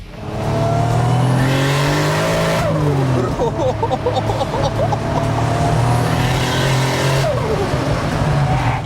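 A 500 hp Toyota Cresta engine revs hard and accelerates, loud and close, the pitch climbing through gear changes with a steady roar throughout.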